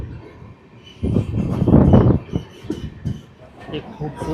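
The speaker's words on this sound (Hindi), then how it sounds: "एक खूबसूरत से लैंडस्केप से गुजरती हुई हमारी ट्रेन" The 15664 Silchar Agartala Express runs on rails through the Barak Valley between Assam and Tripura, near the India–Bangladesh border. A steady rolling rumble swells loudly for about a second before easing back to a lower clatter.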